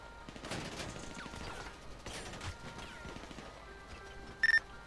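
Gunfire in a GTA roleplay police convoy shootout, rapid bursts of distant shots, a few cracking impacts and a short beeping tone near the end, set against low background noise.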